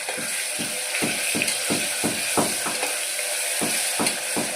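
A spoonful of paste fries in a pan, a loud close sizzle broken by a series of regular scraping or clicking strokes as it is stirred, with no talk.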